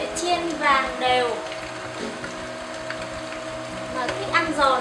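Hot oil sizzles and crackles steadily as fish fries for bún cá, with a few louder bursts of spattering and a low hum in the background.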